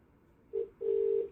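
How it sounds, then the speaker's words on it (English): A ringback tone on a phone call, heard as a short steady beep followed by a longer sustained tone, fairly clear against a quiet line with no talking. "I can hear you, but it's ringing again."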